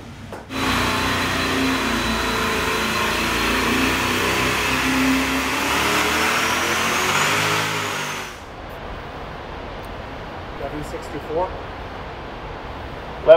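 Methanol-fueled turbocharged small block Chevy roaring on an engine dyno, a loud sustained full-throttle pull for about eight seconds that cuts off abruptly, followed by quieter shop ambience and a few clanks with faint voices.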